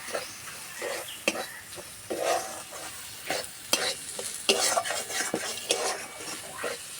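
Soaked mung dal is stirred with spices in a hot pan: irregular scraping and clinking strokes of a spoon over a soft, continuous sizzle, close and moderately loud.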